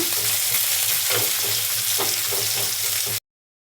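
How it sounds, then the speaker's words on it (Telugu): Curry leaves and chopped onions fry in a pan with a steady, close sizzle and occasional stirring scrapes, no voices, until the sound cuts off abruptly near the end. "అందులోనే కొద్దిగా కరివేపాకు ఉల్లిపాయలు పచ్చివాసన పోయేదాకా వేయించుకుందాము"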